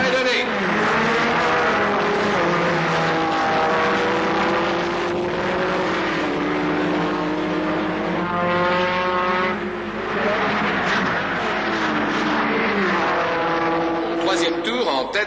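Race cars, among them Ligier, Stratos and Carrera machines, roar away at the start at the Dijon circuit, with loud engines rising and falling in pitch through repeated upshifts while a commentator talks over them.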